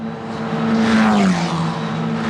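A Euro 4 Championship race car roars past at close range at Mugello, its engine note loud and steady with a clear pitch drop as it passes.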